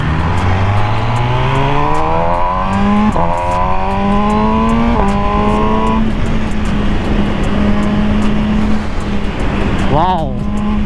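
A 2020 MV Agusta Brutale 1000RR motorcycle revs hard while being ridden, its engine pitch climbing repeatedly through several gear changes and then settling before one last quick rev, loud and close over wind rush.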